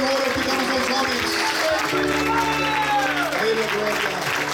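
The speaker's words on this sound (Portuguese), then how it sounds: "Um aplauso longo e demorado." Long, sustained applause from a church congregation at a youth ministry congress, a steady wash of clapping running the whole time beneath held organ or keyboard tones.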